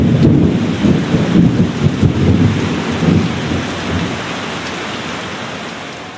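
Thunderstorm with steady heavy rain and a deep, rumbling roll of thunder that swells loud at first and slowly fades, the rain hiss continuing alone.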